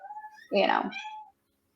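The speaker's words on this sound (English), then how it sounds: "Here comes the cat." A cat lets out a single drawn-out meow, close and moderately loud, during a podcast recording; faint voices murmur just before it.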